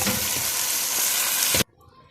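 Tomatoes go into a pan of reddened frying onions, giving a loud, close, continuous sizzle that cuts off suddenly after about a second and a half, leaving near silence.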